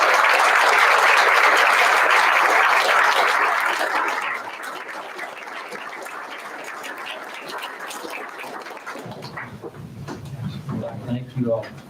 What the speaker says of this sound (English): Please help me give these outstanding teacher leaders another round of applause.